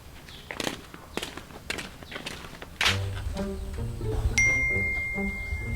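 A phone chimes with an incoming SMS lottery-prize text message, a bright ding following several soft footstep-like knocks, with a low steady hum beneath.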